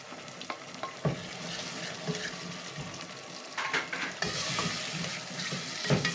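A spice mix goes into onions frying in a pan, with a constant close-up sizzle under scraping, clattering stirring. The frying gets louder and brighter partway through.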